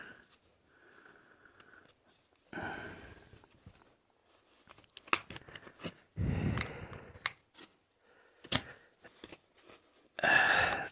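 Scissors snip and rustle through sealed plastic packets holding silver coins from auction lots, with intermittent crinkling and cutting noises close by at a low, careful level and no talking.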